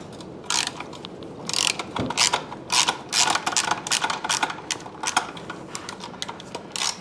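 A ratchet wrench works loose the foot peg fasteners on a Yamaha CT-3 motorcycle, with quick bursts of sharp clicking strokes in an uneven rhythm, close and clear, with no talk.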